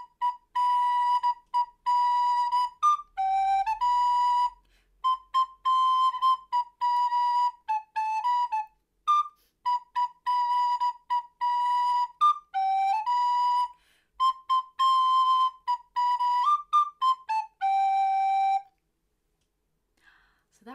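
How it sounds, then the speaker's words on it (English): A recorder plays a simple melody in short, clear, whistle-like notes with brief gaps between phrases, then stops near the end. "that is the sound of the recorder."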